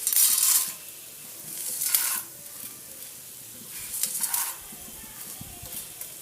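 Chana dal tipped into hot oil for tempering while making tamarind pulihora, giving short bursts of sizzling and crackling, loudest at the start and again around two and four seconds, with quieter frying in between.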